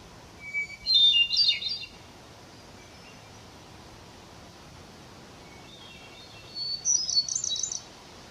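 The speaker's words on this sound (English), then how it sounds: "So what you heard right now is a hermit thrush that I videoed" A hermit thrush sings two separate phrases in a quiet forest: a high, fluting burst of notes near the start and another a few seconds later, with hushed silence between.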